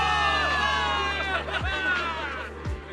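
A crowd cheers a victory in the Zenless Zone Zero video game, a dense swell of shouts and whoops under a steady music bed, with a couple of sharp swooping effects cutting through.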